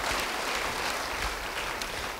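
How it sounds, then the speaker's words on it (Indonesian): A church congregation breaks into applause, a dense continuous wash of clapping from many hands filling the room at fairly high volume throughout, with no voice over it. "Yang setuju beri tepuk tangan bagi dia."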